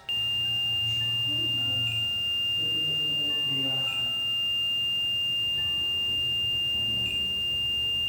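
A REM pod ghost-hunting device sends out a few short electronic beeps at roughly even intervals, clear against a low steady hum, with faint voices in the room.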